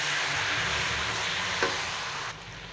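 Spiced masala for turnip and spinach sabzi sizzles steadily in a pan, with one soft clink of stirring partway through. The frying hiss then drops to a quieter level near the end.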